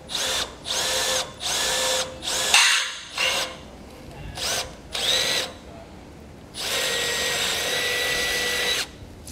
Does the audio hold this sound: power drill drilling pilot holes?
yes